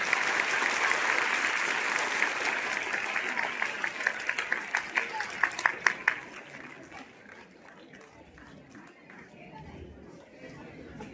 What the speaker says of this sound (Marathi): आपल्या शाळेसाठी, आपल्या शिक्षकांसाठी जोरदार टाळ्या होऊ द्या.